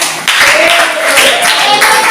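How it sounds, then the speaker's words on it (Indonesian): Classroom group applauding a student team, a sustained burst of clapping from many hands lasting about two seconds, fairly loud and close, with a voice faintly audible underneath. "Tepuk tangan buat kelompok 4."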